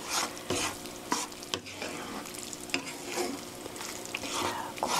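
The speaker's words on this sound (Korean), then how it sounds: "이렇게 고루 섞어주시고요." One-pot fusilli in tomato sauce is stirred in a pan, with steady low sizzling and repeated soft scraping strokes of the utensil, close and fairly quiet with no talking.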